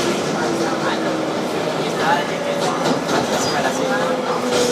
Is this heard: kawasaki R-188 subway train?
yes